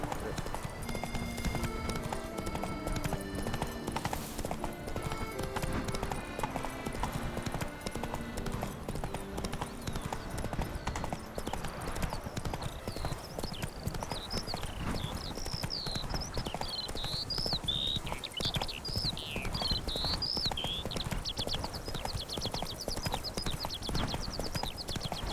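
Horse hooves clip-clop steadily at a riding pace in a video game, a continuous even rhythm running the whole time under background music and occasional talk.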